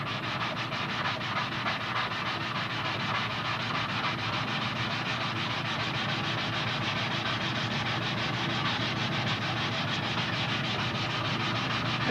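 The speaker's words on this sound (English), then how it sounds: "I'll just go right on the top of this spar and sand" Sandpaper is drawn continuously over the top of a foam model-aircraft wing spar, giving a steady, close, even hiss of rubbing with no pauses for its whole length.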